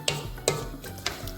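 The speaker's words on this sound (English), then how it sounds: "so just give it all a good stir," A tomato and aubergine bake being stirred in a pan on the stove, with a few distinct scraping strokes at a steady rhythm, close and fairly quiet.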